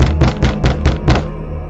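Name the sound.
knocking on a door, horror story sound effect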